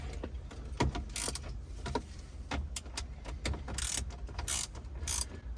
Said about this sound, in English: So that's just a 7mm deep socket on a spark plug wrench.